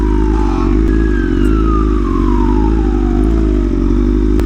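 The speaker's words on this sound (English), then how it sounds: "that's definitely sirens this time" Emergency vehicle sirens wail from a distance, a falling tone sweeping slowly downward over the loud, steady drone of a motorcycle engine, with no one speaking.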